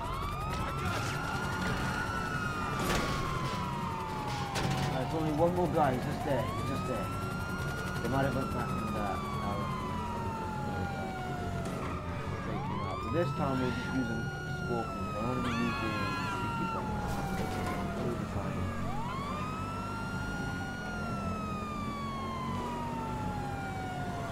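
Police car sirens in GTA V wail in repeated rising and falling sweeps, with several overlapping sirens cycling continuously at moderate volume behind game noise.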